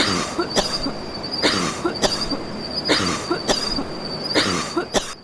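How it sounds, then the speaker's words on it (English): A sick girl coughs in repeated short bursts, four or five harsh coughs spaced about a second apart, fairly close, with a faint steady tone in the background. "Did we hear your sister coughing?"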